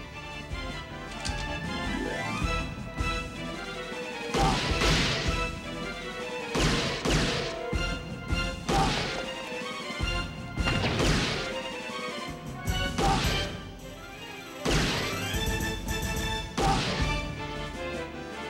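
Gunfire effects in an action sequence of the Policenauts video game, loud bursts of sharp crashing shots arriving in irregular clusters with brief gaps between them.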